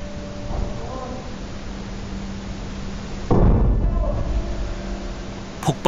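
A sudden loud explosion bursts out during a car fire in a parking garage, heard as a nearby boom and rumble over steady background noise, with a brief sharp pop right at the end.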